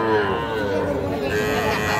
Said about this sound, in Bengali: এইটা একটা ষাঁড় বাছুর।